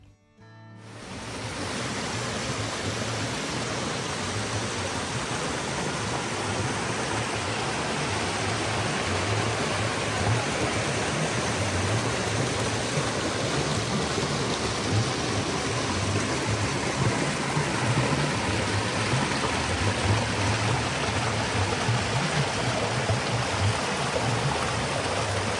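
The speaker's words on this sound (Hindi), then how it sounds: "पहाड़ों के दरमियान में पानी बह रहा है।" A stream flowing between mountains rises within the first two seconds to a steady, loud, close rushing roar of water that holds unbroken for the rest of the stretch.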